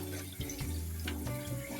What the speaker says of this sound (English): you wash your rice like this, in a rice container like this, or you can do it in a saucepan until the water runs clear